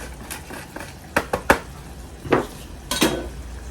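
Grated Parmesan cheese being stirred into a pasta sauce in a pan for chicken tortellini, with a soft simmer under a series of distinct utensil scrapes and knocks against the pan, no voices.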